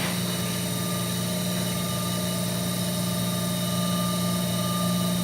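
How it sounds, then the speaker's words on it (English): An electric potter's wheel motor during a big-bowl throwing session gives a steady, close mechanical hum with a constant whine and low rumble, unbroken and alone throughout. "Slow the wheel down a bit."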